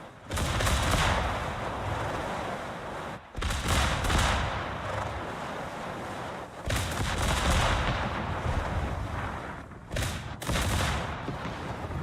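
Heavy naval gunfire in World of Warships, loud rumbling salvos and blasts that surge in long sustained bursts with brief gaps between volleys.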